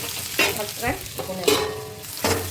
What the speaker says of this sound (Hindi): मूली डालने के बाद इसको थोड़ी देर के लिए हम इसको ढककर भूनेंगे